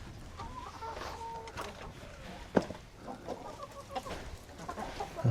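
A rooster clucks inside a chicken coop, giving a few soft, scattered calls at close range with faint coop sounds between them. No one talks.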